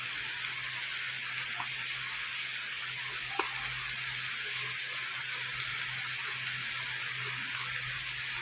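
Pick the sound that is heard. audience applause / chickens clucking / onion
onion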